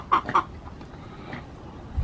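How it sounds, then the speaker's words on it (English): A couple of quick, close clucks from a chicken, followed by a faint cluck in a quiet background. "So there's the chickens"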